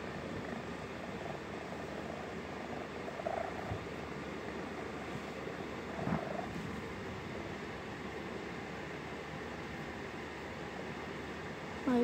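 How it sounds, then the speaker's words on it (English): A steady, soft rumbling cat purr continues without a break, close and low, with faint hiss in the background. "he purrs really loudly"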